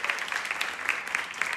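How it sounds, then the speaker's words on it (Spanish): Audience applause for a boy called up at a children's wind orchestra performance, a steady dense patter of many hands held at an even level for the whole stretch. "un fuerte aplauso"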